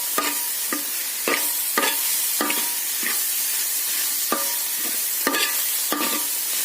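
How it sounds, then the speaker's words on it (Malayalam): Rava upma being stirred with grated coconut in a pan, a spoon scraping in repeated sharp strokes about every half second over a steady soft sizzle, close and alone with no talking. "തേങ്ങ ചേർത്ത് നന്നായിട്ട് ഇളക്കി കൊടുക്കാം"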